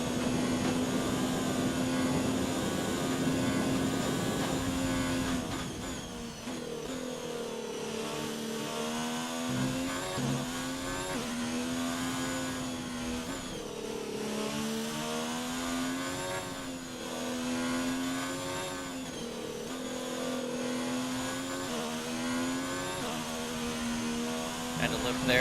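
A Formula 1 car's engine in the F1 2019 racing game whines and revs steadily through a lap, with gear changes and lifts through corners, while a voice talks over it throughout.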